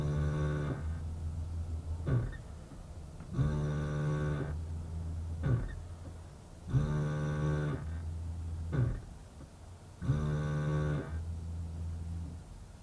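An ABS pump cycles during an automated brake bleed run from an Autel AP200C scan tool, the car in park or neutral with the brake pedal held. It gives four buzzing, droning bursts about three seconds apart, each stopping briefly before the next, with no voices.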